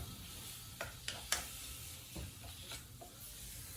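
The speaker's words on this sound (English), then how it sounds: "So that's how the venison looks. Just kind of stir it till the redness gets out of it." Venison cubes sizzle softly in a hot pan as they are stirred, with a steady low hiss broken by a few light scraping clicks from the utensil. No one speaks.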